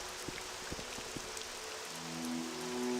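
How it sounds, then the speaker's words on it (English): Rain falls steadily in the video game Morrowind, a dense hiss of droplets with a few soft low thumps and a faint rising drone near the end, no voices. "Always fucking raining, though."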